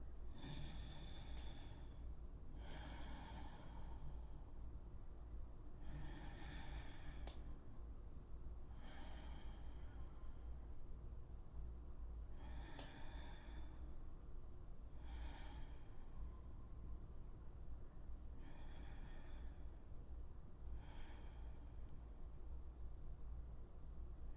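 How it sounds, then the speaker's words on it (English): Slow deep breathing during a standing calf stretch against a wall: about nine drawn-out inhales and exhales, close and soft over steady background hiss, with no speech. "Take 5 deep breaths here."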